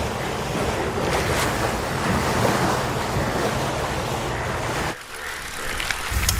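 A boat sets out on river water in rain, heard as a steady rush of water and wind noise in a cartoon setting. It cuts off abruptly near the end before the wash returns, with no talk.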